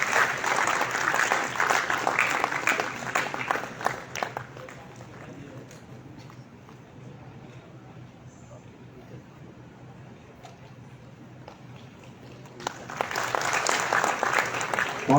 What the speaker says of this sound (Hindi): तालियों के साथ जोरदार स्वागत करिए।